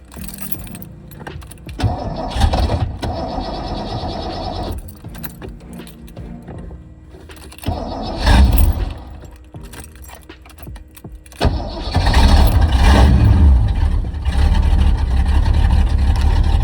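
A Ford Fox body T-top car being moved in a garage: keys jangle, then the engine starts and idles in bursts, revving louder near the end, close and alone with no talk.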